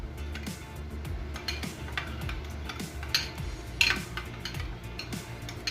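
A utensil clinks and scrapes against a pan while ginger, garlic and water are stirred together, giving light repeated taps and clatters at moderate volume over a steady tonal background.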